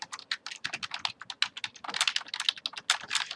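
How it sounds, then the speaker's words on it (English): Rapid typing on a computer keyboard, a close, irregular stream of crisp key clicks with brief pauses between bursts. "If I start typing and I add to that,"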